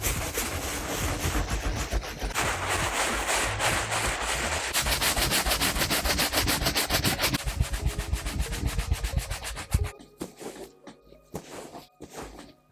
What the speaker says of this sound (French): On va passer à la outsole. Et je pense que cette brosse, elle est faite pour ça.